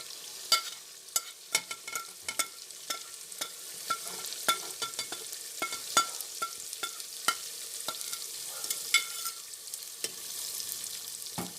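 Ground coriander, salt, turmeric and red chilli are stirred into a pan with a spoon, giving repeated scraping clacks over a soft, steady frying sizzle, with no talking.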